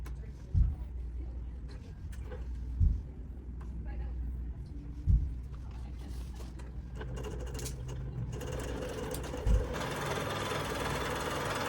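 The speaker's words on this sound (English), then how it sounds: "the machine is gonna start sewing" A BERNINA Q-Matic quilting machine stitches a design with a low, steady mechanical hum broken by several dull periodic thumps, fairly quiet throughout.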